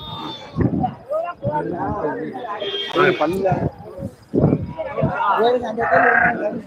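Goats bleating at the Friday goat market in Ettayapuram, several loud, close, wavering calls overlapping one another, with people talking through the busy scene.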